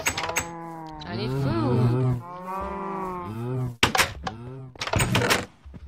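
Cows lowing in a survival video game: several drawn-out, droning moos follow one another over about six seconds, fairly loud and close, with a few sharp thunks in between.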